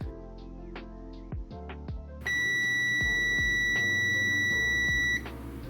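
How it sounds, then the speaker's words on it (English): A digital multimeter in continuity mode, its leads touching a connected line on a faulty Nvidia SLI gaming laptop, emits one steady high electronic tone lasting about three seconds, loud and close, over a low background hum. "Basically, when both leads touch a connected line, it beeps."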